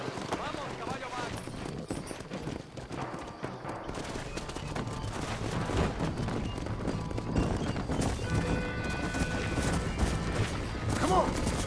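Clip-clop of a horse galloping across open ground in the video game Red Dead Redemption, steady and continuous beneath a voice, with occasional sharp gunfire-like bursts mixed in.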